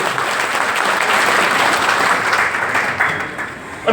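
Sustained, dense applause from an audience at a union executive meeting and get-together in Visnagar, holding steady and loud throughout before easing slightly near the end.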